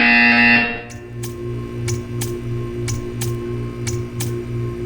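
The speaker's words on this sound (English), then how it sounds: "You will hear a buzzer." A buzzer from the video game Portal 2 sounds in repeated evenly spaced short pulses over a low electronic hum, following a brief tonal chime at the start.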